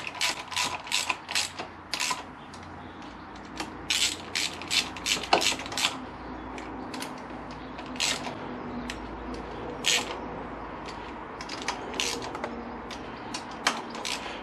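Bolts being tightened on a Honda VFR800 V4 engine during a valve clearance inspection, a steady run of sharp ratchet clicks in quick bursts, close and fairly loud, with no talking.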